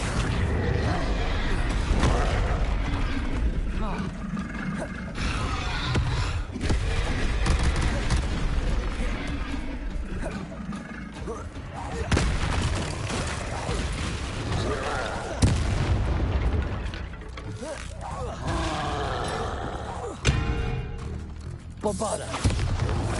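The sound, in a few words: spell explosions from Confringo and Bombarda in Hogwarts Legacy video game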